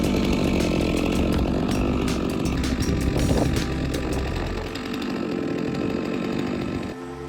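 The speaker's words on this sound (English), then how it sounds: "The sharp saw blade cuts through the tree trunk firmly." A chainsaw cuts through a tree trunk during heavy logging work, its engine roaring loud and close, holding steady under load before the pitch drops near the end.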